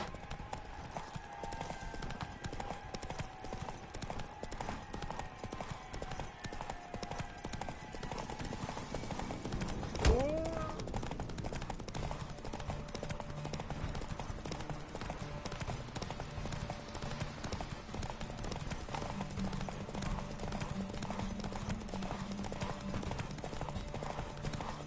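Galloping hooves in The Witcher 3 clip-clop in a steady, continuous rhythm, with a short whinny or call around the middle and game ambience underneath.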